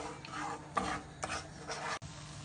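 Semolina toasting in a pan for Turkish milk halva, a soft dry rasping and scraping as a spoon stirs it in several strokes, with a brief knock near the end; no talking.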